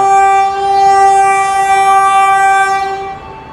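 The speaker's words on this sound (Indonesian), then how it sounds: "ini ada kereta bandara nih yang persiapan masuk stasiun Padang" A diesel airport railcar train's horn blares in a long, loud, steady tone for about three seconds before trailing off as it arrives at Padang station, with rumbling rail noise underneath.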